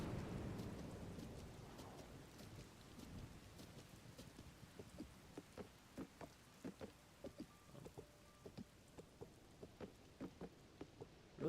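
Rain pours steadily in The Legend of Zelda: Tears of the Kingdom, a dense hiss with a low rumble early on, then sharper, regular drip-like taps over the continuing downpour.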